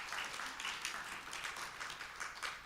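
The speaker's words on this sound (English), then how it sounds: "Let's give Nancy a round of applause." Scattered applause from a small audience at a church talk, faint and steady, soft rapid clapping with no voices over it.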